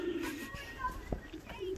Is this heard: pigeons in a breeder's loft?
yes